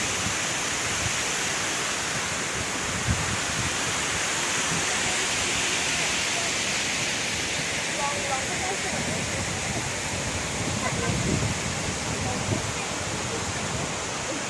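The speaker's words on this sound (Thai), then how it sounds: "ด้านนู้นก็จะเป็นด้านล่างซึ่งน้ำตกไหลลงไปครับ" Kuang Si waterfall near Luang Prabang, Laos, pours in multiple tiers with a steady, dense roar of rushing water, loud and continuous throughout.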